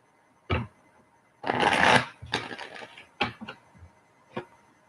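Tarot cards being shuffled by hand during a live reading, several close, loud riffling bursts of varying length separated by brief pauses, with no talk.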